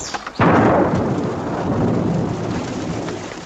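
A sharp crack of thunder bursts in, then a long rolling rumble over steady heavy rain.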